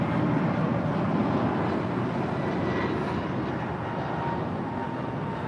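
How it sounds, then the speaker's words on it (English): An American Airlines A321neo takes off at LAX, a loud, steady, broadband engine roar with deep rumble that stays constant throughout, close and dominant, with no talk. "This takeoff is American 1303 departing to Charlotte on an A321neo."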